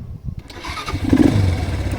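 A 200cc ATV engine cranks and fires up, then settles into a near, steady running note for a couple of seconds.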